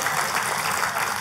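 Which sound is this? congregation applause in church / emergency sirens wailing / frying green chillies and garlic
congregation applause in church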